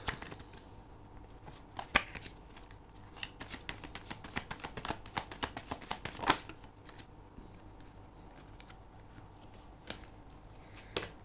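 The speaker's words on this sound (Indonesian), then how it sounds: "Aku akan shuffle lagi." Tarot cards are shuffled by hand in a quiet room, giving a run of crisp riffling and slapping bursts, close and clear, with a few sharper snaps between softer flutters.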